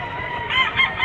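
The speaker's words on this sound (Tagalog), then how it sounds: "Manok." Rooster crowing at a Padre Garcia, Batangas auction market where white kelso gamecocks are sold, a short close crow rising over busy market chatter and background noise.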